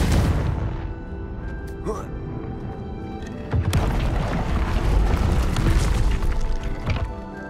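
A Confringo blasting spell explodes in the video game Hogwarts Legacy, heard as a dense, booming burst with crackling debris that swells again midway and continues under other game noise, with a voice speaking over it.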